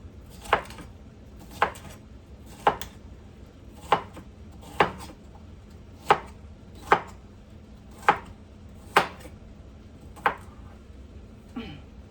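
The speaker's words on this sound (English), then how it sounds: "Just rough chopping these." Steady knife chops on a cutting board rough-chopping vegetables, about ten sharp strikes spaced roughly a second apart, close and clear over a quiet kitchen background.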